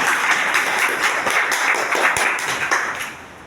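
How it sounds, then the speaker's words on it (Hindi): A seminar audience claps steadily and enthusiastically for a few seconds, a dense patter of hands that slowly fades toward the end. "इस रैंक के लिए एक बार जोरदार ताली होनी चाहिए"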